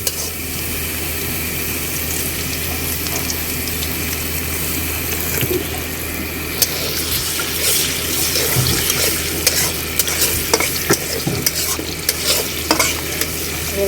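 Onions frying in oil in a pot on the stove, a steady dense sizzle with occasional sharper crackles and clinks of stirring building toward the end, with no voices.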